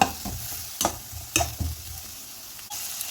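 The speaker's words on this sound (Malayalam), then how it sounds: "ഒരു കാപ്സിക്കം ആണ് എടുത്തിട്ടുള്ളത് അതിൻ്റെ പകുതിയാണ് ഞാൻ എടുത്തിട്ടുള്ളത് അതും കൂടി നമുക്കിട്ട് കൊടുക്കാം ഒന്ന് വാട്ടിയെടുക്കാം" Capsicum sautéing in a pan for a chicken veg soup, a soft steady sizzle broken by a few clinks and scrapes as it is stirred, no voices.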